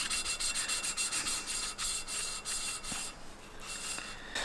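TSI engine valves being lapped by hand against their seats, a quiet continuous gritty rubbing and rasping in quick repeated strokes, close up with no talk.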